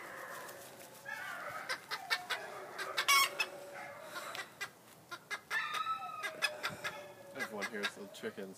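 Chickens on a farm clucking and squawking, with repeated close, lively bursts of calls and a few crow-like cries over a quiet background.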